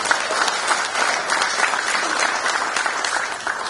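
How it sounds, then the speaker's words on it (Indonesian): A crowd at a political party headquarters in Indonesia gives steady, dense applause that lasts the whole few seconds without a break. The applause follows a speech about a presidential election win. "Boleh tepuk tangan."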